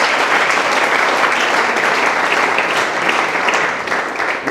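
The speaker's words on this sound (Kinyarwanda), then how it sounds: "Reka dukomere amashyi umukozi w'Imana." A church congregation applauds at a worship gathering, a dense, sustained burst of clapping from many hands that holds steady and eases slightly near the end.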